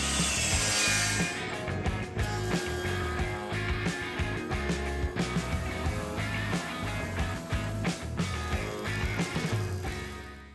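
Mansonia, or African walnut, boards being cut with a power saw, a loud, steady whining cut with grinding texture that runs continuously and close up, without talking.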